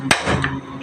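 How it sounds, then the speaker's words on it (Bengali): A single sharp knife chop through an onion on a cutting board in a home kitchen, the onion being cut for an onion-and-chili mash; one crisp, close thud with a brief ringing tail. "পেঁয়াজ কেটে রাখছি"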